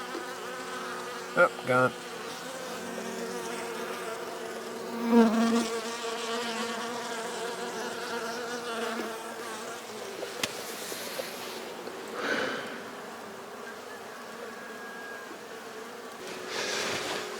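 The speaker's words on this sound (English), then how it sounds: "this bee's drinking water" Honeybees hum around a backyard hive on a quiet winter day, a soft continuous buzz with a few louder passes close by, and a person speaks briefly.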